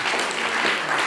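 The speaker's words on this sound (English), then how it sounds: "let's give them a round of applause." Audience applause at a college event, a steady wash of many hands clapping at even loudness throughout, with no voices over it.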